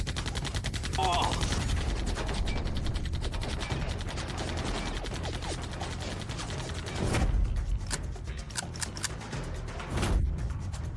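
Rapid gunfire bursts from anime weapons in a dungeon battle, dense crackling volleys throughout with louder cracks near the end as the guns falter, mixed with background action sounds.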